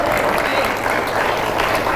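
A dense burst of audience applause fills a hall at an Islamic sermon gathering, loud and continuous, with crowd voices mixed in.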